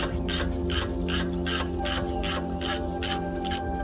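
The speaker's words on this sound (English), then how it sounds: "this still while I loosen off that pin" Ratchet clicking steadily at close range while the brake caliper pin is loosened on a BMW 520d F10 5 Series during a brake pad change, a fast even run of sharp pawl ticks with no talk over it.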